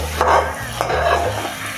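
Onions sizzling in hot oil as they finish frying, a steady crackling hiss with a low hum beneath and bursts of stirring scrapes, close and fairly loud.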